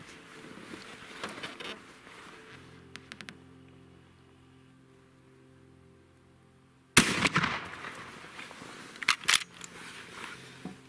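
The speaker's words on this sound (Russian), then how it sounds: "Делаем первый выстрел из получока." A single sharp, loud shotgun blast from an ATA Arms Neo12 fitted with a half choke and loaded with 8.65 buckshot. It bursts out after quiet handling noises and faint clicks, then decays with a brief ringing tail.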